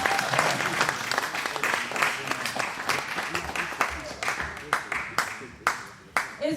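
An audience at a Saturday night acoustic concert applauds for the performer, a steady round of clapping with scattered louder claps that thins out toward the end.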